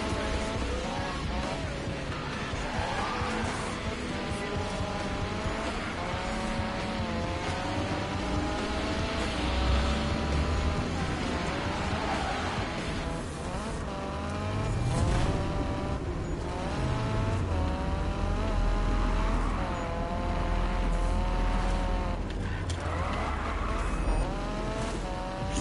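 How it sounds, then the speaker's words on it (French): A race car drifts through corners in a racing video game, engine whine rising and falling over repeated tire squeals across a continuous, loud stretch of game audio. "Faire du drift là."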